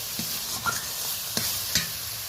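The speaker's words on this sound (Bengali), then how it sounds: "মশলাটা ভালোভাবে কষানো হয়ে গেছে হালকা হালকা তেলও রিলিজ করতে শুরু করেছে" Spice masala frying in oil for a dried-fish curry, a steady soft sizzle with a few brief scraping stir strokes, close and moderately quiet, no talk.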